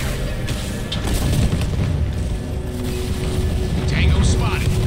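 Artillery bombardment in the Halo Wars 2 battlefield, heavy booms and rumbling blasts rolling continuously under game sounds and radio chatter, with a stronger impact near the end.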